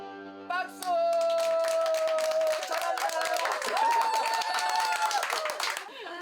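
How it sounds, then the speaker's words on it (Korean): An audience claps along at a handpan performance, the dense clapping running loud under sustained ringing tones and cheering, with a voice calling out near the end. "박수!"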